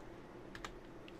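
Faint typing on a computer keyboard while scripting in GlovePIE, a few quick clicks over a low background hum.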